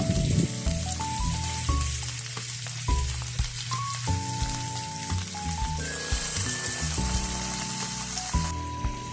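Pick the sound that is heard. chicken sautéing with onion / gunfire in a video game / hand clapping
chicken sautéing with onion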